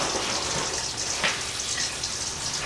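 Water runs steadily from a kitchen tap while heating up, a constant close hiss and splash without pause.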